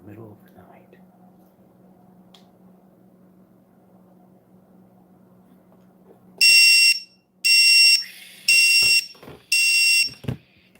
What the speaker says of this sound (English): Apparently, the RX lost signal beeper beacon is set up correctly.